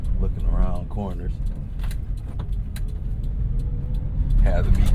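A Japanese kei truck hums along from inside the cab, a steady low engine drone with road rumble, some faint rattles and a voice speaking briefly over it.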